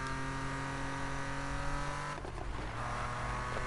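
A race car's engine and exhaust roar in the Need For Speed video game, holding a steady high drone that dips briefly as the throttle lifts, then picks back up, loud and continuous.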